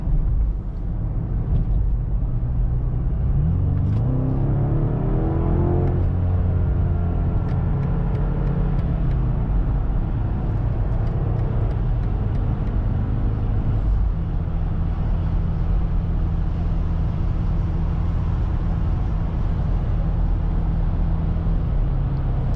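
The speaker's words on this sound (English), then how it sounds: "So let's go here in the corner. We can try what this car can do." 2025 BMW M5 engine droning steadily while cornering, with pitch rising as it revs, heard from inside the car under continuous road and tyre noise.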